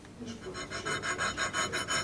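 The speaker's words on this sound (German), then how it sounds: "An den Stellen feilt sie nach." A gunsmith apprentice hand-filing a rifle part at the workbench: about nine rhythmic rasping strokes, close and fairly quiet, with no talk.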